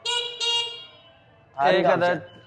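Two short, bright horn beeps from a 2025 Metro M6 Empower sound close and clear in quick succession, followed by someone talking.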